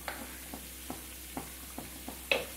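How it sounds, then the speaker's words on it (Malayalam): Bread pakoda frying in hot oil, with a faint, steady sizzle broken by soft, regular taps as the pieces are turned in the pan. "തിരിച്ചു മറിച്ചിട്ടിട്ട് നമുക്ക് നന്നായിട്ട് തന്നെ അതൊന്ന് ഫ്രൈ ചെയ്തെടുക്കാം"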